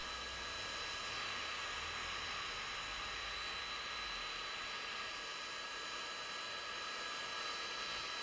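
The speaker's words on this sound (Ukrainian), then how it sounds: "Феном усадимо" A hair dryer blows with a steady, even whoosh, heat-shrinking plastic, running continuously and fairly quietly without any voices.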